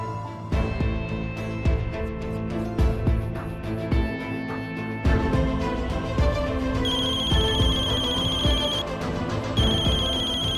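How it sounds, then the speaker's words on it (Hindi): A phone ringtone plays loudly and continuously as a repeating melodic tone pattern over a drama background score, with no talking. "सुनिए, आपका फोन बज रहा है।"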